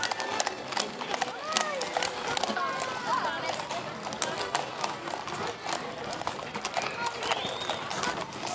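Champion horses' hooves clip-clop on pavement in a street parade, a brisk, busy rhythm of many hoof strikes throughout, with crowd noise and a public-address announcer talking over them.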